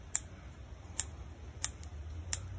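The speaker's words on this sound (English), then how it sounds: "Just snip them with the scissors." Four crisp, quiet snips spaced unevenly over a low background rumble, like scissors cutting small stems one after another.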